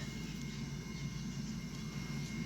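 A Phenom 300 business jet takes off in the Prepar3d flight simulator, giving a steady, unbroken roar of engine noise throughout with no voices.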